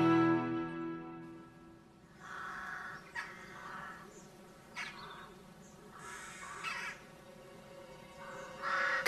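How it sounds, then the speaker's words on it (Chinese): A crow caws several times in short, harsh bursts spread across a quiet outdoor scene, with a faint insect buzz and a low hum underneath. "该死的乌鸦！"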